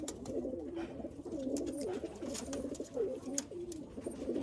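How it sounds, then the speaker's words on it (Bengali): Malwai pigeons coo steadily and softly in a sale coop, one low rolling call after another, with a faint background hum; no speech. "দেখুন সুন্দর কোয়ালিটির পায়রা"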